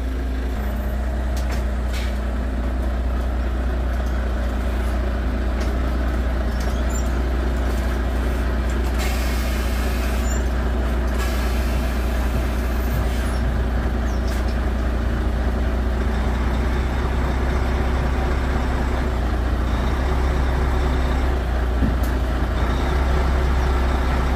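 Heavy truck idling loudly and steadily as it backs up and couples to a trailer's fifth wheel, with a continuous low engine drone, hissing air bursts and faint clunks throughout.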